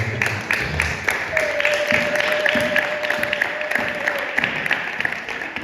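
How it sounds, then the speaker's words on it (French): A church congregation at a Sunday service claps steadily in applause for the Lord, a dense, continuous wash of many hands with a sustained tone held over it. "On acclame le Seigneur"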